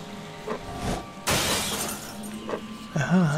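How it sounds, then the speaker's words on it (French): An enemy in Tulpa bursting into pieces with a sharp shattering crash like breaking glass, loud and sudden, surrounded by quieter ambient game sounds and a voice at the end. "Donc elle explose en 1000 morceaux."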